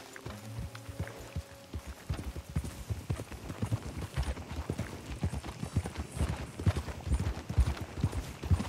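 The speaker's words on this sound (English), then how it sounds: "Just a horse, my friend." Horse hooves clip-clop steadily in Red Dead Redemption 2, a quick rhythmic trot of close, even beats that runs the whole time, with a brief musical tone near the start.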